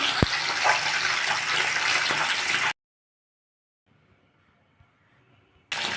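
A rohu fish fries in hot oil with a loud, steady hissing sizzle that stops abruptly into near silence, then returns just as strongly at the end.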